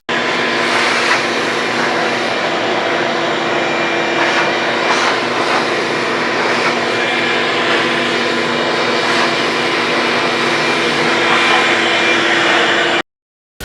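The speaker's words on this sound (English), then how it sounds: "so let's take the plastic off, get the vacuum, just vacuum it up." A shop vacuum runs steadily while sucking loose sand off a shower floor during tile preparation, giving a loud, continuous rushing whine that holds for about thirteen seconds and then cuts off abruptly.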